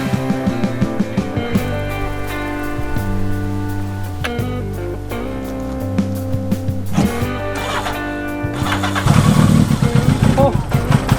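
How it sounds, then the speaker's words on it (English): A Yamaha XJ650 Turbo motorcycle engine cranks and catches after sitting unused, with a rougher burst of engine noise near the end over a steady tonal background. "now we have to start the bike up to see if oil flows to the turbo and the bike runs"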